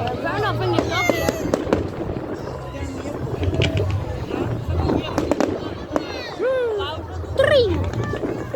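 Fireworks display at a coaster park, with a rapid series of crackling bursts and whistling rockets rising and falling throughout, loud and continuous, while people talk and react over the show.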